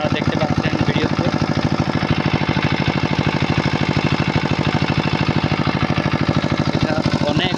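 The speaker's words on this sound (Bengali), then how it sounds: "এ হলো আমাদের ডিজেল চালিত ইঞ্জিন পাম্প।" A diesel engine driving an irrigation water pump runs steadily up close, its rapid, even thumping beat continuing unchanged and loud throughout.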